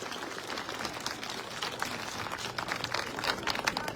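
An audience at a political speech applauds, a faint, dense crackle of many hands clapping steadily with no voices on top.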